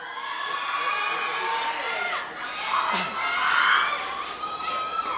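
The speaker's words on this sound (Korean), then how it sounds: "이성규 씨에게 여러분 뜨거운 박수 부탁드리겠습니다" Fans at The Seoul Awards ceremony roar with a sustained wash of cheering and high-pitched shouts for actor Lee Sung-kyu. The crowd noise swells louder midway through.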